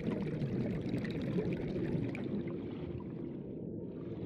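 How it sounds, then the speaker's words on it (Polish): Water pours and gurgles steadily in the survival game Subnautica, a dense continuous rush that stays loud for several seconds before easing slightly, with no voices over it. "Odgłosy wlewającej się wody."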